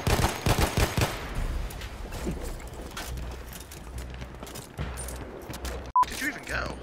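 Gunfire in the Battlefield video game, a rapid burst of loud close shots at the start followed by scattered distant shots and one sharp final crack, with voices talking over it.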